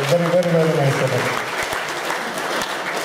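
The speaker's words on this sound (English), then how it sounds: "A big round of applause for them for making a brilliant setting here." An audience at a blogger meet in Bangalore applauds steadily while a voice talks over the start, and the clapping carries on as the talk fades.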